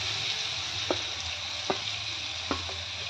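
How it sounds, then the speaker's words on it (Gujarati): Sapota (chikoo) pieces sautéing in ghee for a halwa, a steady soft sizzle with three sharp spoon scrapes spaced about a second apart, close and alone. "હવે અહીંયા મેં ઘી લીધું છે, અને ઘીની અંદર આપણે બધા જ ચીકુ સાતળી લઈશું।"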